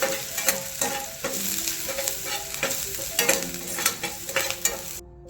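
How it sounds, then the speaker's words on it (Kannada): Chopped green chilies and coriander stems frying in a pan for veg manchurian, with a continuous close sizzle broken by repeated scraping stirs at an uneven rhythm. "ಇದನ್ನು ಹಾಕಿ ಚಲೋ ತಂಗ ಇದೆ ಕಲರ್ ಚೇಂಜ್ ಆಗೋ ತನಕ ಫ್ರೈ ಮಾಡ್ಕೋಬೇಕು"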